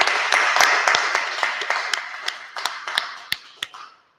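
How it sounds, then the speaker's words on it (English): Audience clapping in a room, a burst of scattered hand claps with sharp individual slaps that thins out and fades to silence within a few seconds. "clap it up, clap it up"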